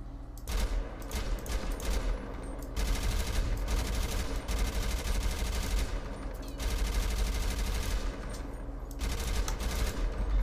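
Carbine rifle fire in GTA V on FiveM with a realistic sound pack: loud, sustained automatic bursts in several long runs separated by short pauses, harsh and close.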